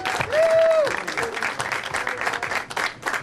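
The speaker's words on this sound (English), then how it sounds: "Please give them an enormous round of applause." Audience applause for the building contractors at a ribbon cutting ceremony for a community Pride center, dense and steady clapping throughout, with a cheer or whoop rising near the start.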